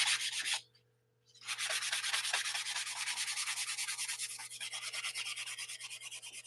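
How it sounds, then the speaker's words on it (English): Small sanding block rubbed back and forth on a part during a model build, a steady close scratchy rasp with a brief pause near the start, then continuous even strokes. "So you take a little, I take a little sanding block."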